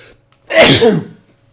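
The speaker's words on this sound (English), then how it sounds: "hold on, I need to sneeze." A single loud, close person's sneeze bursts out after a short quiet pause and fades within about half a second, with no talking around it.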